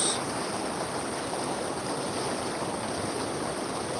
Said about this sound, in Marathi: पावसाचा पाण्याचा विसर्ग पाहू शकता तुम्ही अशा प्रमाणात फुल भरून वाहत आहे पाणी